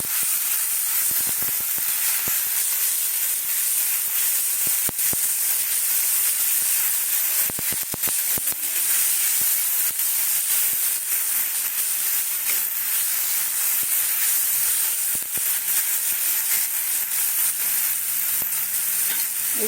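Raw potato fries in a pan for chili chops, giving a steady, close hiss and sizzle that continues evenly throughout with no talking.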